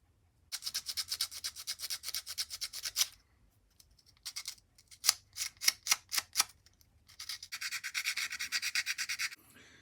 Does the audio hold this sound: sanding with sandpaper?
yes